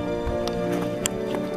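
Horse hooves clip-clop on a mountain trail near Piz Bernina, steady irregular thuds at middling distance over a constant outdoor rumble, with faint voices in the background.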